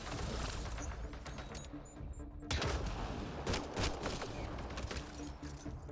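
Gunfire in the video game Mass Effect Andromeda, dense rapid volleys of shots and impacts filling the whole stretch, loud and continuous with brief breaks.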